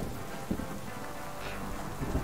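Steady rain in the survival video game Subsistence, a continuous hiss of falling drops with a faint low rumble underneath and a few soft thuds, moderately quiet and unbroken, no voices.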